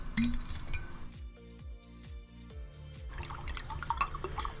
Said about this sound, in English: Grab a glass of water here.